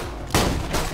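Gunfire in the video game Borderlands 2: a dense, loud burst of rapid shots that erupts suddenly and rolls on for most of a second, alone without talk.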